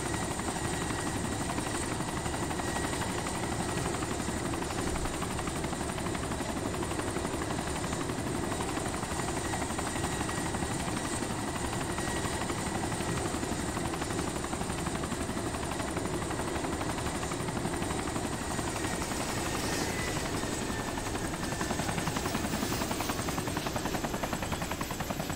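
A helicopter flies in the video game DayZ, its rotor drone loud and continuous throughout with no talking.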